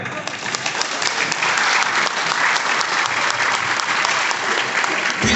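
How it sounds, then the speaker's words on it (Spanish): Wedding guests give the couple a loud, dense round of applause that holds steady for several seconds, a sustained wash of many hands clapping at once, close and full. "para quien pido un fuerte aplauso primeramente"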